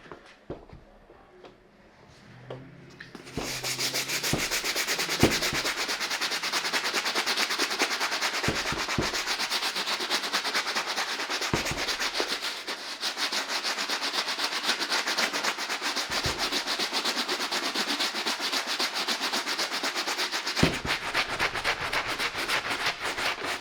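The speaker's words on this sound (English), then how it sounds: "let's go ahead and move over to a soft bristle brush to give it the initial clean" A soft bristle brush scrubs a white Nike Air Force 1 sneaker in a continuous, close, scratchy rubbing that runs steadily for about twenty seconds, broken by a few brief pauses and knocks, after a quiet start.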